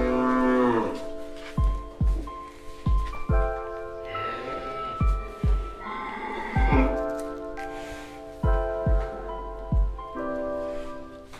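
Madura cattle lowing repeatedly at close range, deep drawn-out moos coming one after another with short pauses between calls, with no talk over them.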